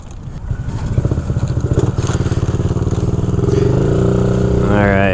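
A Honda Ruckus motor scooter engine putters close by, then revs up to a higher, steadier whine, with a voice briefly heard over it.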